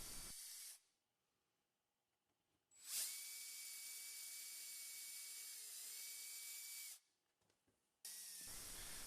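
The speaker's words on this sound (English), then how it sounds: "Pre-drill all the holes with a 3/32 drill bit." A power drill with a 3/32 bit pre-drills holes in wood, whirring in a long steady burst lasting several seconds, with shorter bursts before and after and quiet gaps between.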